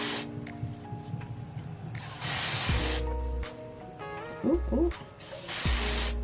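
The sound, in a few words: spraying hair spray on wig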